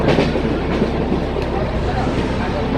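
A steady rumbling rattle of the old Saraighat Express (12346) rolling along the tracks from Guwahati to Howrah, continuous and fairly loud, with a dense low roar throughout.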